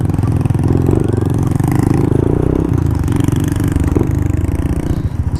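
Close, loud, steady mechanical rumble of a modified Honda RS 125 motorcycle engine with monoshock suspension, running continuously with a rattly, clattering texture and no talk.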